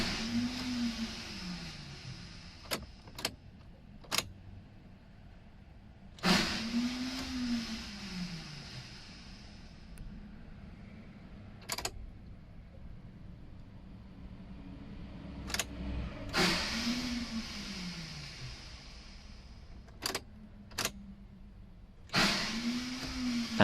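A failing car starter motor makes repeated attempts, each a rising and falling whirring groan, separated by sharp clicks and quiet gaps, heard at moderate distance without speech.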